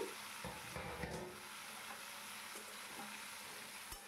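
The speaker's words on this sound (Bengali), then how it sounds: "এবার কাঁকরোল আর আলু কালো জিরে ফোড়ন দিয়ে যে তেলটা গরম করে রেখেছিলাম তার মধ্যে দিয়ে সুন্দর করে নাড়িয়ে চাড়িয়ে নিলাম।" Spiny gourd and potato chunks stirred through hot oil tempered with nigella seeds, giving a continuous close sizzle with scraping, shuffling stir movements throughout.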